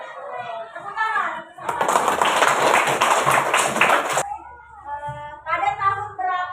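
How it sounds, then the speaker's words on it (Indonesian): A classroom of primary school children breaks into a burst of clapping lasting about two and a half seconds, bright and close, with a teacher talking before and after. "Tepuk tangan."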